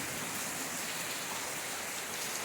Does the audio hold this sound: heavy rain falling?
yes